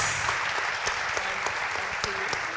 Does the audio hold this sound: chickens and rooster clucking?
no